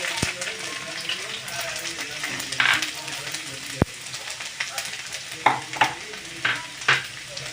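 Garlic, mustard seeds and sesame frying in oil for bhajiya, a steady sizzle and crackle with sharp pops and utensil clinks scattered throughout, growing busier toward the end.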